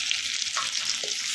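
Chopped onion, small shallots and unpeeled crushed garlic fry in a pan for a dal, giving a steady close hiss and sizzle with faint stirring scrapes.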